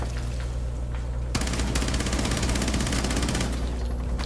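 Machine gun fire from Tachanka in Rainbow Six Siege, a sudden sustained burst of rapid, evenly spaced shots lasting about two seconds, loud and close, then fading back to quieter background game noise.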